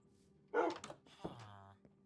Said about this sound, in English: Hello, dog Lancelot.